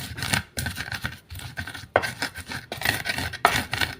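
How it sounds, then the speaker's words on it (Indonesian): Repeated scraping and grinding strokes in an irregular rhythm, close by, as a pestle grinds chili sauce in a stone mortar; no talking. "Oke, langsung diulek."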